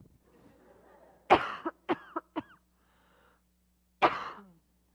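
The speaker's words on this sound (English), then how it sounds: "I'm going to have to cough for a second." A woman coughs in several sharp bursts, one strong cough followed by three quick smaller ones, then a lone cough after a short pause, close to the microphone in a quiet room.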